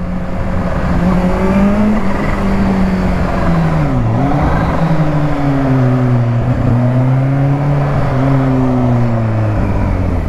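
A loud supercharged Kawasaki Ninja H2 motorcycle engine revs continuously, its pitch climbing and dipping through several gear-like sweeps, with a whining tone riding on the roar.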